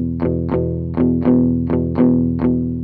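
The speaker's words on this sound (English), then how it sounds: "you got to get your palm on those strings to deaden them a little, and it's going to change your tone." Palm-muted blues rhythm on an electric guitar, the picking hand resting on the strings at the bridge to deaden them: a steady shuffle of about six chugging strums with a chorus and distortion tone, played alone.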